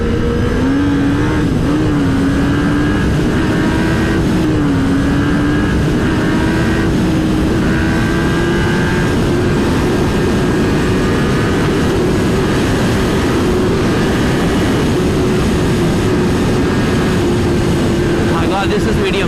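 A Kawasaki Ninja ZX-10R superbike on a touring ride roars steadily under wind rush, its engine holding a sustained drone that rises slowly in pitch with a few shifts early on, loud and continuous throughout.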